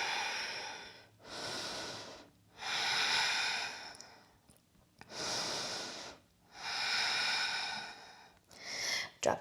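Slow, deep yoga breaths in a downward-facing pose, three long inhale-exhale cycles close to the microphone, each a breathy rush separated by short quiet pauses, with no talk.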